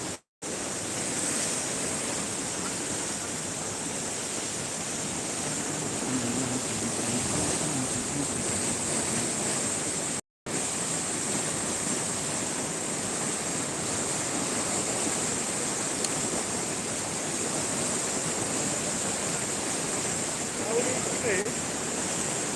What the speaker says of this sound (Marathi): शिरसावनेरीला चांदी नदीला पूर आलेला आहे